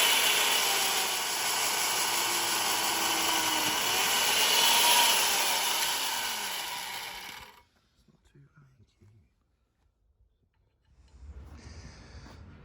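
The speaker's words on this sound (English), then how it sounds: "This is a chain mortise experiment." A chain mortiser cuts a wide mortise into timber for a barbecue pavilion, a loud continuous motor whine and chain rasp lasting about seven seconds before cutting off, followed by near silence and a faint rumble.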